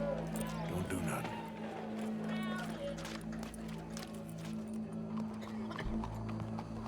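Horse hooves clip-clopping in Red Dead Redemption 2, a steady running rhythm under a low engine-like drone and game ambience, with voices talking over it.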